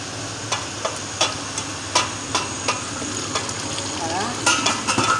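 Okra sauce (Togolese adémédéssi) simmers in a pot with a soft sizzle while a spoon stirs it, giving a series of close, irregular scraping knocks against the pot.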